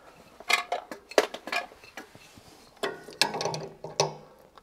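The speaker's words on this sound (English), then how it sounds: "Now I can just unscrew this switch." A wrench turns a well pump pressure switch off its fitting, giving bursts of metallic clicking, scraping and ratcheting taps with short pauses between them.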